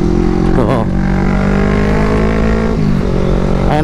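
A Kawasaki ER6N motorcycle pulls hard on the throttle in city traffic, its engine loud and close with a rising then steady drone and quick rev changes at the start and end, while a rider talks over it.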